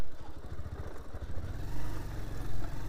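A motorcycle engine idles close by with a steady low rumble and slight clatter, its pitch settling as the bike is brought to a stop and parked on a sloped spot.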